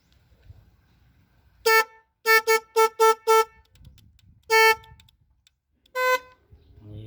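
A car horn honks in short bursts: one toot, then a quick run of five, another single blast, and a final honk, with quiet gaps between.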